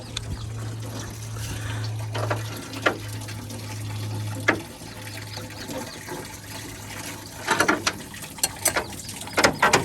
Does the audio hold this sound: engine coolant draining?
yes